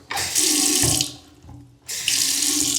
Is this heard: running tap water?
yes